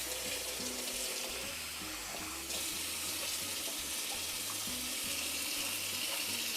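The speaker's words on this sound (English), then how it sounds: "I'm just going to fill it to the top with hot water." Hot water runs steadily from a kitchen tap, filling a skillet to the top for birria taco preparation, producing a continuous close splashing rush with no talking.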